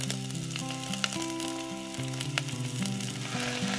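Chopped garlic and pickled vegetables fry in three tablespoons of cooking oil for a Thai pork-leg rice dish, a steady close sizzle with faint clinks of stirring throughout.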